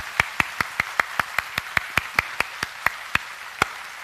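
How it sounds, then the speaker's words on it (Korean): A church congregation claps to welcome new family members, in crisp, evenly spaced claps with a steady rhythm. The sound is close and clear, with no talking over it. "우리 뜨겁게 한번 박수로 환영합시다"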